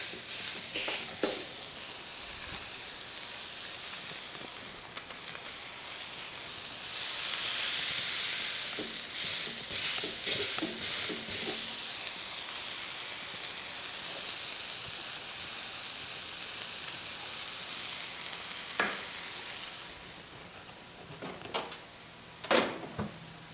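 A smash burger patty sizzles on a hot surface after being squashed under parchment, a broad, steady hiss running throughout with a few scraping and knocking sounds near the end.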